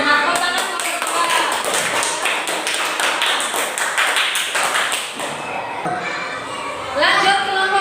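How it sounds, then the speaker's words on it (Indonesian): A classroom of students applauding a group after its presentation, a dense burst of many hands clapping loudly for several seconds, with some children's voices mixed in. "Tepuk tangan kelompok"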